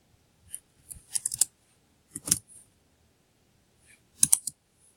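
Close keystrokes tap out on a computer keyboard in small irregular clusters, sharp and light, with gaps of quiet between bursts and a final firmer key press like enter; no talking.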